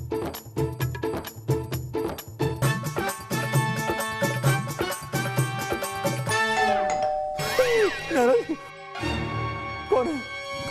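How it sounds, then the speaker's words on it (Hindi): A household doorbell chimes repeatedly in quick ding-dong bursts, loud and close, before a voice breaks in at the end. "घंटी बजी है"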